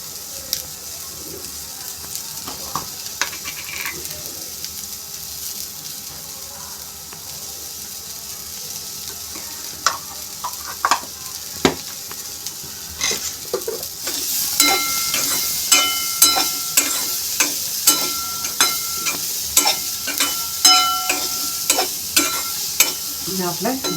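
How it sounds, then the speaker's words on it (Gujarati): Corn sautéing in a pan with pepper powder sizzles steadily under repeated spatula scrapes and taps, which grow busier and more rhythmic toward the end. "આપણે મકાઈ સાતળી લીધી છે."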